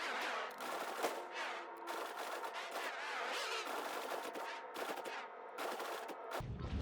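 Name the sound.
ship weapons firing at a ship in Star Citizen video game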